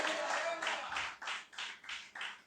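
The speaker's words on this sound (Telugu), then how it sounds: "ధైర్యం వస్తే ఒకసారి చప్పట్లు కొట్టి హల్లెలూయా అనండి" A church congregation claps together in rhythmic bursts, several even beats in a row growing clearer toward the end, with a voice briefly audible at the start.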